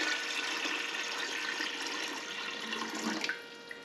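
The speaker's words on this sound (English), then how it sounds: "I'm going to put 3 quarts of water in the bottom" About three quarts of water pour into the bottom of a steam canner pot, a steady rushing splash that holds for several seconds, then tapers off with a few final drips and no talking.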